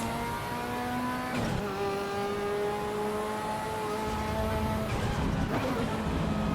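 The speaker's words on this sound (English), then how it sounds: "It's worth the 18 quid or whatever it is for that downshift noise" A race car engine in Assetto Corsa Evo revs high and steady, then drops pitch through downshifts, with a rasping blip and a further sharp downshift near the end, heard continuously and close.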